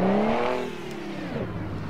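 A truck engine in the video game Euro Truck Simulator 2, revving loud and close, its pitch sliding down as the rev falls, with a sound more like a passenger car than a heavy lorry.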